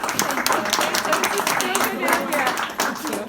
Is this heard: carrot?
no